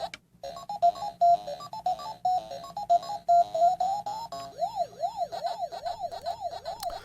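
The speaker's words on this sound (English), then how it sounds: "the music and sound effects sound like the original arcade rather than the old tabletop version" Mini tabletop arcade game playing its demo-mode music: bright beeping melody notes, then a warbling siren-like sweep, clear and alone.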